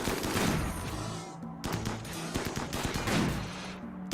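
Colonists firing guns in the video game Rimworld, repeated sharp shots in irregular volleys with brief gaps, loud and close with no talk over them.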